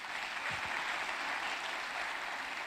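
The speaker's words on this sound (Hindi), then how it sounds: "एक जोरदार ताली" Dense, steady applause from an audience at a business success-day event in Mumbai, filling the whole stretch at an even level with no speech over it.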